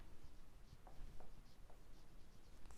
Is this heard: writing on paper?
yes